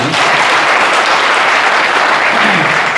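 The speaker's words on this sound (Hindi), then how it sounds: "इनके लिए जोरदार तालियां बजा दें।" Loud, dense applause from a seminar audience fills the space, a steady wash of clapping with no voices on top.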